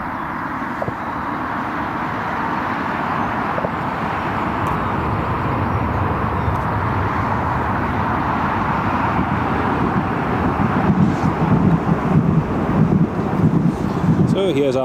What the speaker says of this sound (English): here comes the Dreamliner from Bournemouth